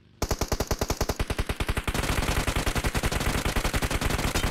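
Loud, close automatic gunfire in an online shooter, a rapid steady stream of evenly spaced shots that grows denser after a brief opening pause, with no talk.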